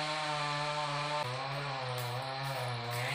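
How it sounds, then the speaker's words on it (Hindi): A chainsaw cutting a tree gives a steady, loud, droning engine whine whose pitch dips slightly midway as the blade bites into the wood, with no one speaking. "वो पेड़ काट रहा है। वो पेड़ काटने वाला मशीन है"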